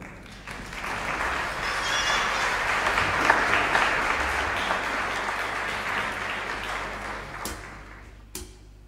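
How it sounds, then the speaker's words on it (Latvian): Audience applause at a Christmas show in Rundāle Palace, a steady wash of clapping from a hall crowd sustained for several seconds, with a couple of sharp clicks near the end. "Sagaidiet ar aplausiem!"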